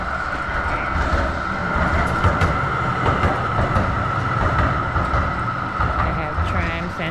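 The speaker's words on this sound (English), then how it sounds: "I can hear a tram coming." A Melbourne tram rolls along Glenferrie Road in Malvern, its steady rumble and wheel noise filling the street at close range while someone talks over it.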